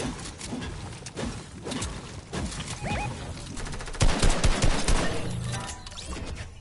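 Rapid video game gunfire during mouse and keyboard play, with bursts of shots and a louder volley around the middle, fairly close and continuous.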